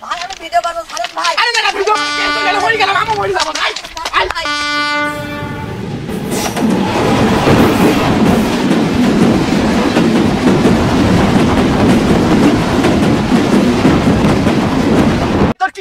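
A train approaches with loud repeated horn blasts, then its cars thunder past up close with a sustained rumbling clatter, and voices are heard briefly near the start.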